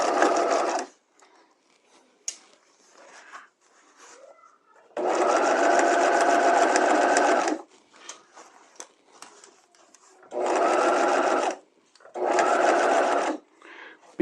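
A sewing machine sews a neckline facing at half an inch in four separate bursts, each a loud steady whir, with quiet gaps of small handling noises between them.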